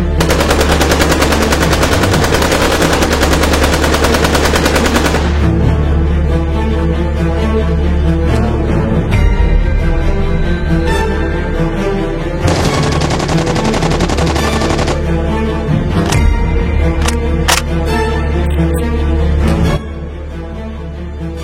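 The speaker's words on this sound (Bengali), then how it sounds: "স্যার আপনি ফায়ার চালু রাখুন।" Sustained bursts of machine-gun fire from an Indian Army war film, loud and continuous throughout with dense rapid rattling, brief pauses and shifts in intensity, and no talk over it.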